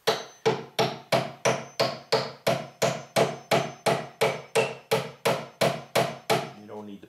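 A small Stanley hammer taps wood about twenty times in an even, steady rhythm during frame assembly, each strike sharp and close with a short ring, ending in a softer scrape.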